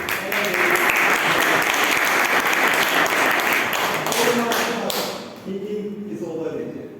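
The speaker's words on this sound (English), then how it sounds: "A big round of applause for the very young" Dense, loud applause from a Toastmasters club audience greeting a speaker, sustained for several seconds before tapering, with voices starting to talk as it dies away near the end.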